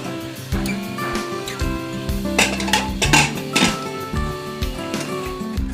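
A pot of pigeon pea dal with two medium tomatoes is set on the stove, heard as close metallic clanks and clinks of pots, lid and utensils in bursts, with no talking.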